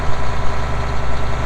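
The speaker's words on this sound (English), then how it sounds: "really the tractor's getting closer" A farm tractor engine rumbles steadily at close range during a fertilizer application job, a dense low throb with an even idling rhythm, loud and continuous with no voices.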